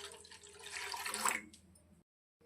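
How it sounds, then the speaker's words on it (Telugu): Water is poured into sweet corn in a pan for soup, a short close splashing gush that swells, then stops abruptly, followed by a faint drip. "వాటర్ని ఈ స్వీట్ కార్న్లో వేసుకుంటున్నా."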